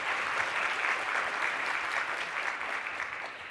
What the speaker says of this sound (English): I think we should start it with a round of applause for each one of you.